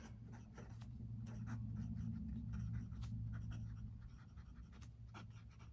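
A fine-nib fountain pen with matching brown ink moves across smooth Rhodia paper, giving a soft, continuous scratchy writing sound with quick strokes, quiet and close, over a low steady background hum.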